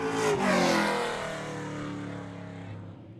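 A pro stock race car at Seekonk Speedway roars through turns 3 and 4 on a record lap, a loud engine rising to a peak as it passes close, then fading away.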